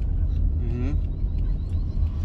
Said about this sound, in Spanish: y le encendió el carro